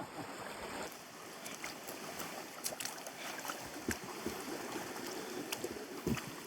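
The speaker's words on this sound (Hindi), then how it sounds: "हम लोग नदी क्रॉस कर रहे हैं" Rocky river being crossed on foot, with water rushing and splashing over stones close by, plus scattered clicks and knocks of movement over the steady broadband flow; no speech.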